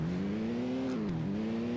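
A car engine driving in the video game Car Parking Multiplayer, a steady close hum that rises slightly, dips briefly as if easing off, then climbs again under constant load.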